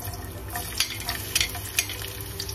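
Garlic frying in a pan for chicken egg adobo, a soft steady sizzle with occasional stirring scrapes, faint and close.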